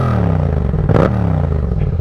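Yamaha MT-07 motorcycle idling close by, a steady low engine throb with a brief louder mechanical clatter near the middle, no talk.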